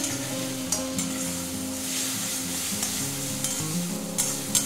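Tomatoes and green chillies fry in a pan for a banana flower curry, a steady close sizzle broken by occasional stirring clanks of a utensil against the pan.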